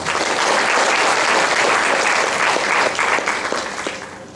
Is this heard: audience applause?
yes